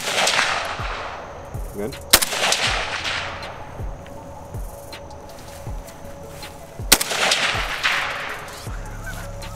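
Two sharp, loud AK rifle shots crack out several seconds apart at an outdoor shooting range, with people talking quietly between them.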